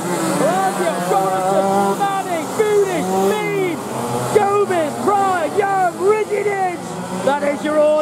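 A pack of 125cc two-stroke racing karts screams past during a race heat, with dense overlapping rising and falling engine whines close by, while a race commentator talks over the noise.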